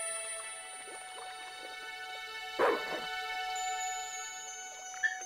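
A dog in the Broken Sword II video game gives a short sharp bark near the middle, with soft whimpers and yips scattered around it over a steady quiet game background.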